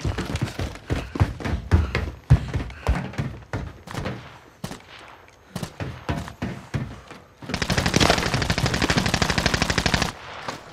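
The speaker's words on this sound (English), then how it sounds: "Receiving hostile fire." Rapid gunfire in Call of Duty's Verdansk map, with sharp single shots and short bursts early on and then a sustained, loud stretch of automatic fire near the end.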